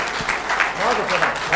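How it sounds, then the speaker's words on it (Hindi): Loud applause from an audience cheering for Rajesh ji, a steady wash of clapping that fills the whole short moment. "राजेश जी के लिए जोरदार तालियां।"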